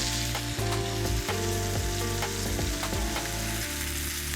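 Onions frying in a single pan for a stroganoff, a steady close sizzle with occasional stirring scrapes and clatters of the utensil against the pan, no voices.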